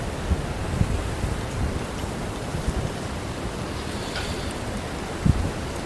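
Strong wind blows steadily outdoors during a West Virginia firearm hunting season outing, a broad rushing roar with occasional louder gusts and faint thumps, no voices.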